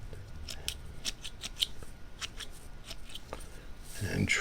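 Scissors snip through fly-tying material just freed from the vise, a scattered series of short, crisp cuts at close range, with a louder rustle toward the end.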